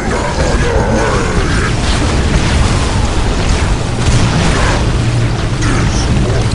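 Explosions roll out from a strafing run in Dawn of War: Winter Assault, with loud, dense booms and rumbling blasts piling up continuously alongside mechanical clatter.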